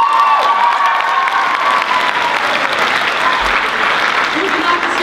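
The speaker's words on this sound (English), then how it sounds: "Give her a round of applause for her." A live audience applauds and cheers for a woman volunteer at an opera-themed noon concert, loud steady clapping with whoops throughout, close and full.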